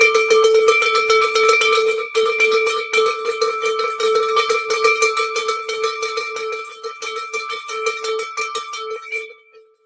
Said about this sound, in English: Haven't heard the cowbell for a while.